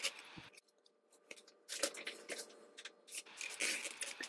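Scissors snip and paper rustles as a junk journal cover is trimmed to size, a quiet, close series of short cuts and crisp handling noises with brief pauses between them.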